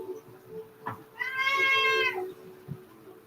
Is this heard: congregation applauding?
no